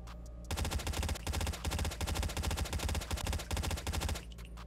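Pharo gun in Call of Duty Mobile, heard as one long, loud burst of rapid automatic fire with a brief pause partway through, close up.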